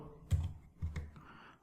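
A computer keyboard is tapped a few times while JavaScript code is entered, with soft, close keystroke clicks in a short, uneven burst.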